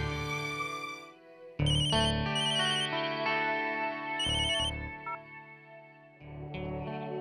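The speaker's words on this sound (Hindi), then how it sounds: "ईशान भाई मेरे, तू पहले फोन तो कर। करता हूं मैं फोन" A mobile phone rings during a call, its bright electronic ringtone melody playing in repeated phrases with brief pauses, clear and alone.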